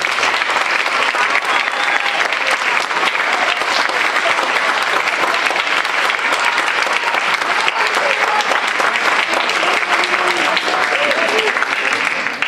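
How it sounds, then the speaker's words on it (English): Sustained, loud audience applause for student capstone presentations fills the room, a steady dense wash of many hands clapping that holds without a break for over twelve seconds, with a few voices faintly mixed in. "Can we give the students another big round of applause?"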